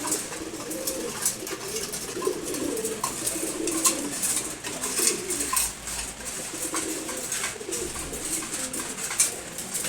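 Several racer pigeons, among them a young one, give repeated low cooing phrases close by, with scattered wing flutters and scratchy movement between calls.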